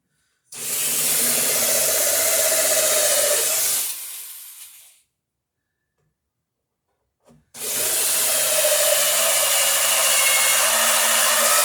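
A power drill whirs loudly into oak for a few seconds, stops for a short silent pause, then starts again and grinds steadily.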